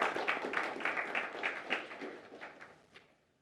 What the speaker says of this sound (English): please welcome with a big round of applause, Dr. Subbarao.